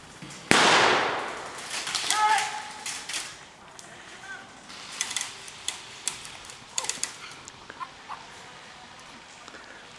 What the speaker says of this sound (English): Grenade went off, back into cover.